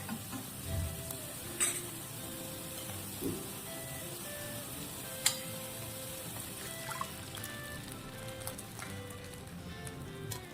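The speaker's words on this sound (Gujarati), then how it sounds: "હવે આપણે એમાં પાણી એડ કરીશું" Water goes into a pan of sautéed vegetables for Manchow soup, a soft sizzle and stir with faint trickling and a single sharp clink partway through.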